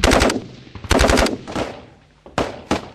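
Loud machine gun fire in Afghanistan combat, with several close bursts of rapid shots separated by short pauses and ringing decay.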